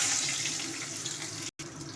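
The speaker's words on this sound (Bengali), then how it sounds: "একটু পেঁয়াজ ফোড়ন দেবো" Onion tempering in hot oil in a wok, a steady broadband sizzle that runs close and loud throughout, with a brief dropout near the end.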